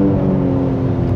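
A 2003 Alfa Romeo 156 GTA engine runs close by with a steady, loud, low drone and only slight variation, with no clear rev rise.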